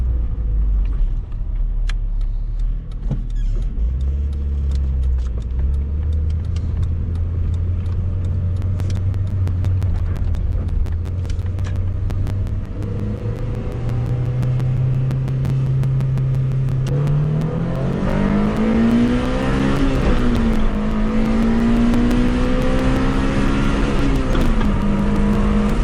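A 1991 Honda Civic pulls hard through its gears, engine note rising steadily in pitch and loudness, then a shift and a sharper climb, heard close from inside the car with no talk.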